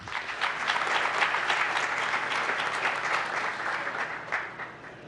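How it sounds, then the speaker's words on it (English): A room of attendees at a Gilbert mayor's forum gives a group of officials a sustained round of clapping, thick and even throughout before thinning out in the last second. "Another big round of applause for that group."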